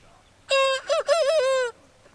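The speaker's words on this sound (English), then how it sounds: "one of our little roosters is starting to crow" A young rooster gives one crow that starts abruptly, breaks briefly in the middle, then carries on in a long wavering strained note before stopping, loud and close against a quiet background.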